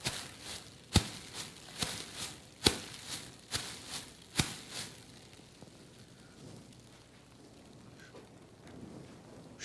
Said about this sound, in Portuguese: Caminhar pela mata